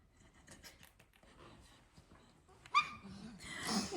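A dog makes short whimpering and yipping sounds close by, scattered across a family challenge game with noisy activity and a louder burst near the end.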